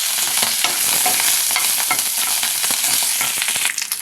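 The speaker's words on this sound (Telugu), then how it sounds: "ఇప్పుడు దీనిలో కరివేపాకు వేస్తాను." Curry leaves hit hot tempering oil already frying urad dal, mustard seeds and cumin, for a drumstick-leaf and carrot fry. A loud, steady, crackling sizzle runs throughout with stirring scrapes and no voices.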